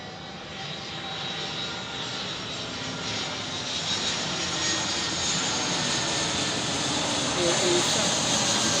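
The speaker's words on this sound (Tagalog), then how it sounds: "Bale, ito na yung pangatlong eroplano." A jet airliner landing at NAIA airport in Manila at night, its engine roar steady and broad, swelling slightly louder toward the end, with people talking quietly over it.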